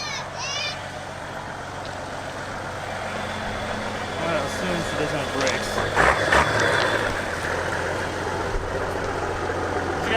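A Ford F250 converted to run on a farm-grown 70's tractor diesel engine idles with a low, rough rumble, heard beneath people talking throughout.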